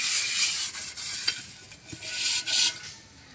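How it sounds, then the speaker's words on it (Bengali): A clay cooking pot being rubbed inside with straw to break up sand, a steady close scratching and rasping with rising and falling strokes, moderately quiet and without talking. "এই খড় দিয়ে বালিটাকে আমি সুন্দর করে ভেঙে নেব।"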